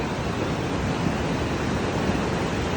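Floodwater rushes hard after a cloudburst at Maldevta, Dehradun, pouring where a road once ran. It makes a loud, steady, unbroken roar like surf, with no pauses and no voices.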